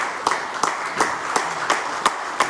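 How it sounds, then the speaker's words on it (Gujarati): Steady audience applause at a COVID warrior award ceremony, with sharp, evenly spaced claps standing out about every third of a second, moderately loud and without any talking. "એમને તાળીઓના ગણગણથી વધાવી દો"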